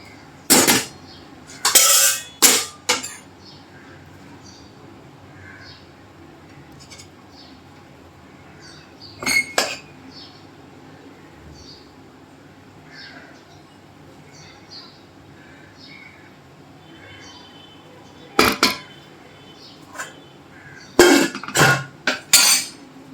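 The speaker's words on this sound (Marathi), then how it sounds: "तर आता आपण आहे ना एका डिशमध्ये सर्व करूया." Metal utensils scraping and clinking against a pot and dish while vala khichdi is served, several short clattering bursts separated by long quiet gaps, close, with faint birdsong in the background.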